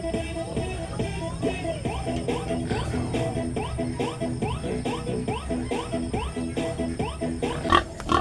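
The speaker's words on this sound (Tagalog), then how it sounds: "Madali lang naman pasunodin ang ating mga inahing baboy kapag magpapabulog tayo." A sow grunts repeatedly at close range while being led to a boar for breeding on a pig farm, with short, steady grunts and some shuffling and clinking in the background.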